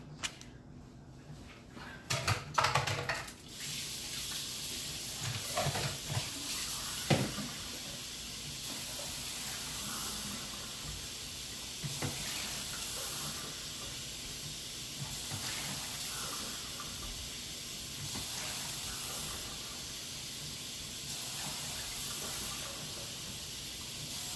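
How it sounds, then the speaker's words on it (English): Tap water runs steadily while hands are washed after handling raw poultry in a home kitchen during dog-food preparation, a continuous hiss with a few louder splashes and clatters near the start. "I got to wash my hands because I was just handling poultry."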